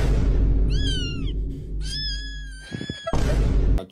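A cat gives two drawn-out, loud meows, clear and close, over a heavy low background rumble, followed by a few sharp clatters and a burst of noise.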